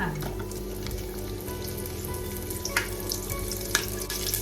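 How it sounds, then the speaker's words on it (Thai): Star anise, cinnamon and garlic frying in hot oil for Thai braised pork leg, a steady close sizzle with faint crackles and occasional clinks, no talking. "พอน้ำมันเริ่มร้อนใส่ป่อยกั๊กค่ะ อบเชยค่ะ กระเทียมค่ะ"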